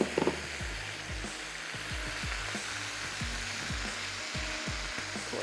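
Spinach leaves fry in a pan while a spoon stirs them, giving a steady sizzle broken by a series of repeated scraping strokes at an even pace, with no talking.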